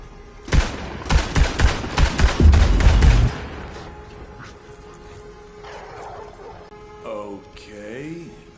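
Rapid bursts of game gunfire from Borderlands 3, loud and close, fill the first three seconds in a dense string of shots, then fade to a low rumble with scattered electronic effects and a brief voice-like warble.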